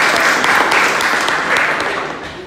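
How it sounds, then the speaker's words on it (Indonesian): Applause from an audience, a dense continuous crackle of many hands clapping at steady loudness, tapering slightly at the end, with no voices over it. "Tepuk tangan dulu dong."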